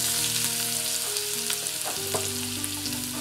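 Cumin seeds and finely chopped ginger roast in hot oil for restaurant-style paneer bhurji, giving a steady close sizzle that crackles throughout with a few faint utensil clinks, and no one talks.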